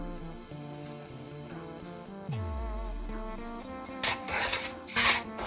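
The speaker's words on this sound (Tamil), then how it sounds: "முதல்ல ரவையை நல்லா வறுத்தெடுக்கணும்" Semolina (rava) being dry-roasted in a pan for upma produces soft rasping and scraping as it is stirred, growing into louder, grainy rubbing toward the end, over faint background music.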